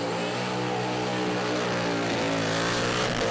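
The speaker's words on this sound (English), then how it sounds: "You can hear the blower whining." A supercharged car revs hard through a burnout, the steady engine roar loud and continuous with a high blower whine running over it throughout.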